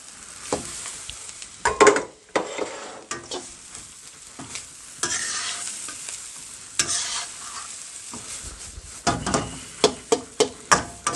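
Rice goes into a hot pan outdoors for fried rice, and the sizzling under it is broken by several loud scraping, clattering bursts of stirring, ending in a quick series of sharp taps against the pan.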